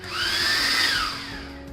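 A Xiaomi Mi Vacuum G9 cordless stick vacuum runs with a bright, steady motor whine that rises quickly, holds, then tapers off as the button is released.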